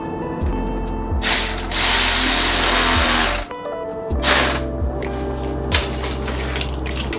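A hand ratchet clicks in quick repeated strokes while tightening a bolt on a Nissan 240SX alternator, loud and close, with a short pause midway before the clicking resumes.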